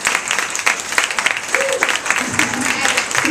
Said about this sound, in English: Can we give a round of applause for our panel?